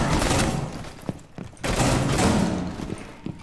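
Gunfire in Rainbow Six Siege crackles in dense bursts, loud and close, with short pauses between volleys and a few sharp single shots near the end.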